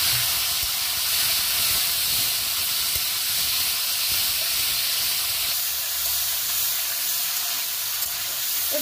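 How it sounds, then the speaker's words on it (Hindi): Prawns frying in hot mustard oil for a chana dal and prawn gravy, giving a steady close hiss of sizzling throughout with no talk. "अब इसमें जो चिंगड़ी हम रखे थे, वो चिंगड़ी ऐड कर देंगे और हल्का गोल्डन ब्राउन होने तक फ्राई करेंगे।"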